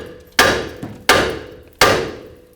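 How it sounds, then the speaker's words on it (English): Three sharp metallic hammer strikes on the side of a steel steering knuckle of a 2005-2021 Nissan Frontier, evenly spaced, each ringing briefly before fading. "Take a hammer, hit the side of the knuckle."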